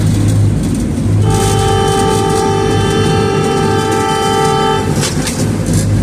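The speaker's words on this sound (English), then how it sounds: "Now, Lori's going to honk the horn here" A boat's horn sounds on the Charles River in Boston, one long steady blast near and loud over the steady rumble of the boat's engine and wind.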